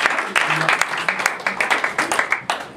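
A church congregation claps and cheers in praise, with dense applause and scattered voices crying out that continue steadily from near and around the room.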